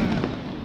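A Diwali firecracker bursts in a single loud, broad blast that fills the short moment, with its rumble fading out and no voices present.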